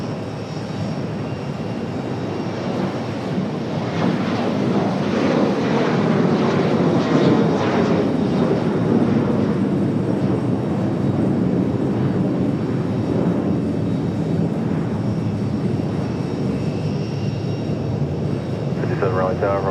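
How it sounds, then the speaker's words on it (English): An Alaska Airlines Boeing 737 jet heading to Seattle, its engines a loud, swelling roar that builds and then holds as a steady rumble, close by, with a voice talking over it. "Alaska 572 back to Seattle, the 737"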